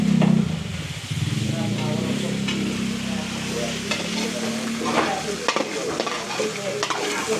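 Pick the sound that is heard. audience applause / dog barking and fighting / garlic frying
garlic frying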